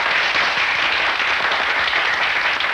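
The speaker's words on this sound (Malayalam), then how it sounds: "എല്ലാവരും ഒന്ന് കൈയടിച്ച്." A crowd applauding loudly at a public felicitation and inauguration event: dense, sustained clapping that stays at an even level throughout.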